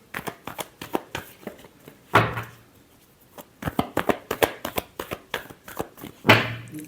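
Tarot cards being shuffled by hand, a rapid series of crisp riffling flicks and slaps in bursts, close and fairly loud, with brief pauses between rounds and no talking.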